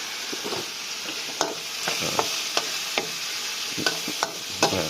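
Onion flowers and beef stir-frying in a hot oiled pan with oyster sauce, a steady sizzle broken by repeated scraping clacks of a spatula stirring close by, with no talking.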